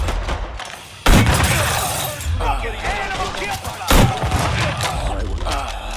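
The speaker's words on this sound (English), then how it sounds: "Grenade!" In the video game Mafia III, a grenade explosion and gunfire erupt with two loud blasts amid rattling shots and debris, with a voice calling out over the combat.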